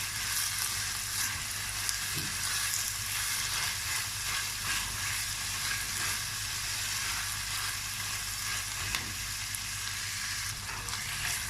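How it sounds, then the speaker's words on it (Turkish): Steady, continuous sizzling of tomato paste frying in a hot pan, close and even throughout, with faint scraping stirs now and then. "Böyle salçamın kokusu çıkana kadar kavuracağım."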